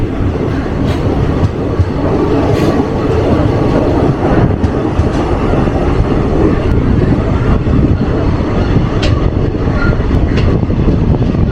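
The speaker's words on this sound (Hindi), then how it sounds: "अभी हमारी ट्रेन निकल रही है डोडबलापुर रेलवे स्टेशन से" A train pulls out of Doddaballapur railway station, filling the clip with a loud, steady, rumbling roll of wheels and carriages and an occasional faint squeal over nearly twelve seconds.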